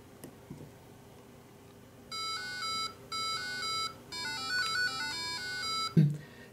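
Piezo buzzer driven by an Arduino beeping out a sequence of musical notes in three short phrases, thin and electronic like a vintage video game, faint, with a thump at the end.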